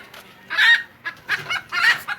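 Several short, close clucks from chickens in quick irregular bursts, with brief quiet gaps between them.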